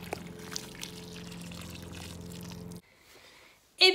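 Water pours steadily onto freshly planted autumn plants, a soft continuous trickle that stops abruptly, followed by a brief quiet and a short sharp noise at the end.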